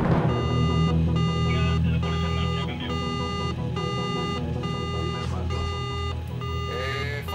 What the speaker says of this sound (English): the alarms of the first buoy went off in the Calypso